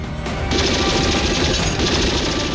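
Dense, continuous automatic gunfire roars without pause, loud and close, with a crashing, rattling texture throughout.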